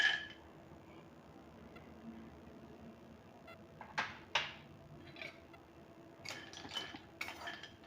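Black cardamom pods dry-roasting in a pan over low flame for homemade black garam masala, giving soft intermittent clinks and rattles as the pods are stirred, a few sharper scrapes standing out against a quiet background.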